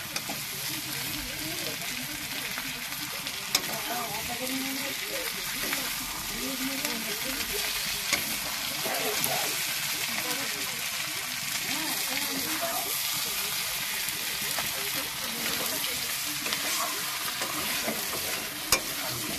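Mutton curry sizzling and frying in a pan while being stirred, a continuous hiss with scraping spoon strokes and occasional sharp ticks throughout.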